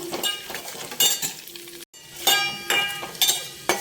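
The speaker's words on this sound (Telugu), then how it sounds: "నాలుగు కిస్మిస్లు కూడా వేసుకుందాం. ఇవి కూడా కొంచెం వేగాక" Raisins frying in ghee in a pan while cooking atukula payasam, a soft steady sizzle broken by sharp clinks and scrapes of a spoon stirring against the pan, with one brief silent gap.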